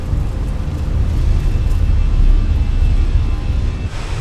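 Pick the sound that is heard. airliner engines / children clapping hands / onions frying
airliner engines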